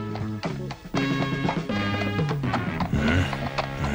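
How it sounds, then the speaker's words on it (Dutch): Horses are led aboard a ship in an animated scene, with hooves clopping in uneven bursts against a busy backdrop of music and effects, close and fairly loud. "Breng de paarden aan boord."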